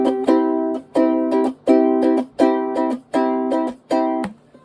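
A ukulele strummed with the fingernail in a steady rhythm of bright, ringing chord strokes about once per second, each decaying before the next, close and fairly loud with no talking.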